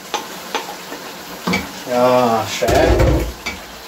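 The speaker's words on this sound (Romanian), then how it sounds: "Amestecăm bine, bine." Bell pepper and tomatoes sizzle in a frying pan as they are stirred, with clinking utensil taps against the pan and bursts of louder frying noise, while a voice briefly speaks.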